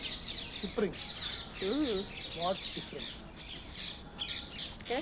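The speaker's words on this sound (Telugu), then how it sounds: "మెయిన్ పీస్ఫుల్గా బర్డ్ సౌండ్స్ వస్తున్నాయి" Several birds squawk and call in short bursts amid outdoor background noise and distant chatter, moderately faint, in a park at Gandhi Hill, Vijayawada.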